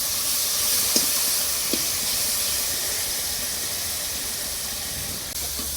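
Spice paste sizzles and fries in a pan for a broiler chicken curry with potol, a steady close hiss throughout with a couple of faint stirring clicks.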